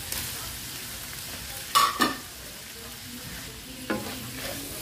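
Tomatoes going into a pan of ground pork for ginisang pechay, stirred and frying with a low steady sizzle, a few sharp clatters of the spatula against the pan standing out near the middle and end.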